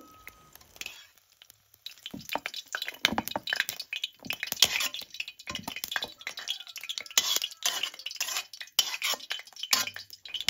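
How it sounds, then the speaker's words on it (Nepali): Fried mushrooms scooped from an oily pan onto a plate, with repeated metal spoon scrapes and clinks against the pan, irregular and close, over a faint sizzle. "अब चाहिँ फ्राई भइसकेको च्याउलाई मैले एउटा प्लेटमा निकाल्दै छु।"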